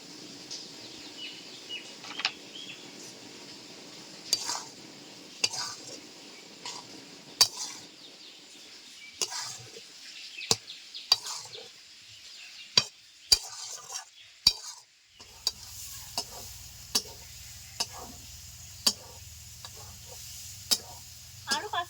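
A spoon scrapes and stirs Bengali bele shak ghonto, a leafy greens dish thickened with wheat flour, in a pan, in a steady run of sharp, close clacks over a soft background sizzle.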